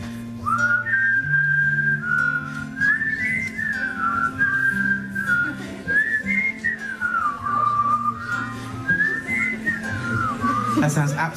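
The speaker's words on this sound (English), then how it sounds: "if anyone knows the whistling bit" A concert audience at a show in Paris whistles a wandering melody together, the tune rising and falling in unison over soft instrumental backing for several seconds.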